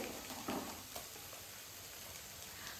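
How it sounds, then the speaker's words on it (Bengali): Tomato paste fries in a pan with a soft, steady sizzle and a small burst of stirring near the start. The sound is faint and close, with no talking. "আমি দিয়ে দিচ্ছি টমেটোর পেস্টটা টমেটোটাকে দিয়ে বেশ কিছুক্ষণ মতন ভেজে নেব"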